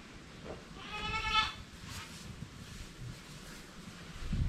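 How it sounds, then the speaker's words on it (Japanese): A single adult goat bleat rises out of a quiet outdoor farm background with light rustling, fairly close. "大人のヤギだ"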